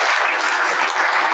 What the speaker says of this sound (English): we should see them and give them a wonderful clap